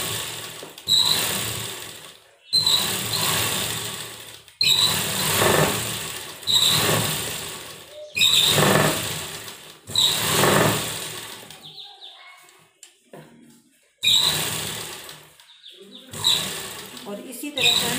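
An electric sewing machine stitches a sleeveless blouse in repeated bursts of whirring, each run a couple of seconds long with brief pauses between, close and clear with no talk over it.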